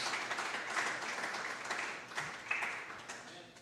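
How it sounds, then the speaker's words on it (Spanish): A church congregation claps and applauds together, a steady dense wash of clapping filling the whole moment without clear breaks. "Dale un aplauso al Señor"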